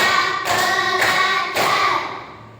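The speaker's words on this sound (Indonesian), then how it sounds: "Tepuk 1, tepuk 2, tepuk" A group of schoolchildren claps in unison during a counted classroom clapping game, with three sharp bursts of claps in an even rhythm that fade at the end.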